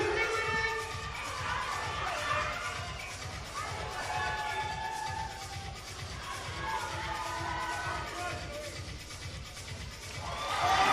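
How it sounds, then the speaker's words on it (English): A crowd at a bouldering championship final cheers and shouts steadily throughout, with whoops and excited chatter. A rhythmic thumping beat runs underneath, and the cheering swells again at the very end. "Crowd really getting right behind all of the athletes."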